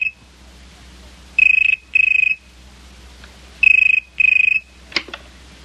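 A telephone rings indoors in a 1970s sci-fi television series, two pairs of electronic trilling bursts with a pause between, clear and moderately loud over a faint hum, then a brief clunk of the handset being lifted.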